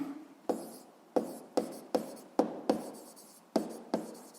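Pen on paper jotting physics notes by hand: a string of sharp, close strokes and taps in an irregular rhythm, roughly nine distinct scratches over a few seconds, in a quiet room with no speech.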